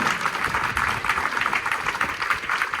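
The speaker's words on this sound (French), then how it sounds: "on peut applaudir" Audience applauding at the opening of the Deco by Disney store in Disney Village, Disneyland Paris: steady, dense clapping from a crowd, continuous and fairly even for a few seconds with no voices on top.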